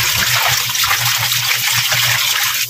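Running tap water pours over boiled chicken intestines being washed in a kitchen sink, a steady, loud, close rush that never lets up.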